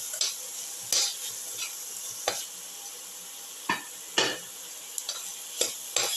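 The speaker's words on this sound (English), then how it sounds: "saute garlic" Garlic sautéing with salt in a pan for a cumin potato coconut casserole, a steady bright sizzle punctuated by repeated sharp spatula scrapes and stirs at irregular intervals, close and clear.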